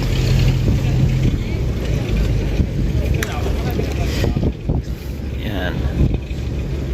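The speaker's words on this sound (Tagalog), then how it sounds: "So umaandar na yung makina, pero kailangan na sabayan ng tukod kung tawagin." Motorized outrigger boat engine running on the water while touring El Nido, Palawan, a steady low drone under heavy wind buffeting on the microphone, close, with some splashing and a voice at times.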